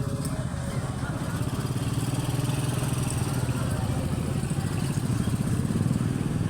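A motorcycle engine runs in a parking area, a steady low mechanical chug with a fast, even pulse that holds throughout at moderate level while someone talks faintly over it.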